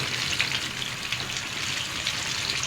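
Chicken wings sizzle and crackle steadily in hot oil as a pan-fry continues, a dense, even hiss with faint popping throughout and no voices.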